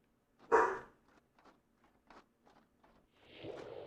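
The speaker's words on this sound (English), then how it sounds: "Really, I'm getting curious about what he's barking at." A dog barks once, sharp and fairly close, inside a Champions of Norrath game session, followed by quieter scattered sounds and a rising noisy burst near the end.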